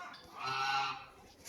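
A hen and a duck at a water tank on a village farm, with a faint fowl call rising and falling once, honk-like and clucking, with no talking.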